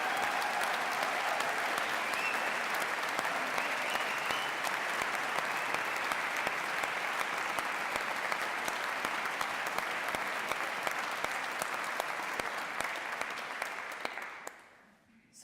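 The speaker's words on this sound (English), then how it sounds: "we ought to begin with a round of applause for the fanfare" An audience at a college awards congregation applauds a fanfare: dense, sustained clapping from a large crowd that holds steady for about fourteen seconds, then quickly dies away.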